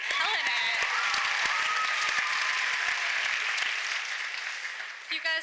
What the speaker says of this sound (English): Let's give another round of applause for all the poets here tonight